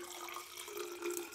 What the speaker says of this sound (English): Let's go ahead and transfer some water